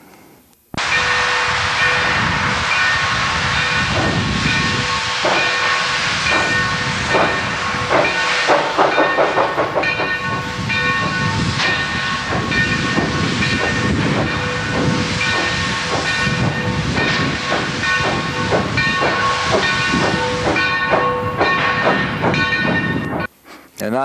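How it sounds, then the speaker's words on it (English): A 1901 steam locomotive hisses loudly and continuously, with rhythmic chuffing, clanking rail sounds and a whistle tone running through the long passage before it cuts off. "the sound of the train."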